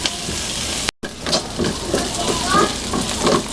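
Chopped onion sautés in hot oil in a pan, a steady close sizzle with soft stirring scrapes, broken once by a brief dropout.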